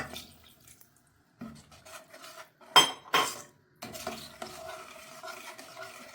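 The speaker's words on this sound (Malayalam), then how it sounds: "എന്നിവയെല്ലാം ഇട്ട് നല്ലവണ്ണം ഇളക്കിയെടുക്കുക." Egg curry masala stirred in a pan, a spoon clanking and scraping against the metal in bursts with a faint sizzle, close and alone.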